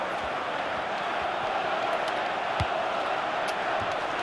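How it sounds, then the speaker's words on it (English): Stadium crowd in the football video game FIFA 14 keeps up a steady, distant wash of chanting and cheering, with a few faint thuds and taps over the roar and no clear talk. "The fans are chanting for us"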